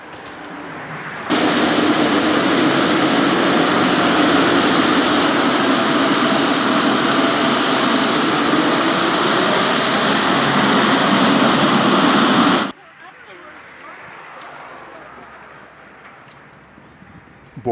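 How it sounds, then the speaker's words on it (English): A 19-passenger, Czech-built Nature Air turboprop airliner in Costa Rica gives a loud, steady engine roar that starts abruptly, holds for about eleven seconds, then cuts off sharply to a quieter background. "Nature Air flies 19-passenger turboprops built in the Czech Republic."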